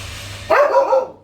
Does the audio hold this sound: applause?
no